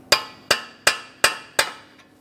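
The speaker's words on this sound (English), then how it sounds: "We'll use a hammer and punch directly in the center of the axle to break it free from our wheel bearing." Five sharp metallic hammer blows on a punch set against the center of a front axle on a 2015-2019 Subaru Outback, evenly spaced and close, each ringing briefly before decaying.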